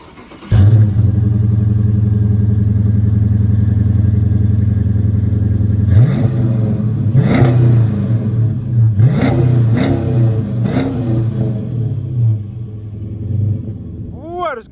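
A Dodge Charger R/T with muffler and resonator removed starts and idles with a deep, loud exhaust rumble, then several sharp revs rise and fall before settling back to idle.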